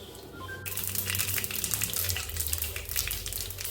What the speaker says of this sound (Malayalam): 1 ടീസ്പൂൺ കടുക് ഇട്ട് കൊടുക്കാം.